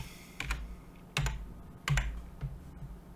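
Someone types a folder name on a computer keyboard, producing a few soft, close key taps spaced out in short clusters against a quiet background.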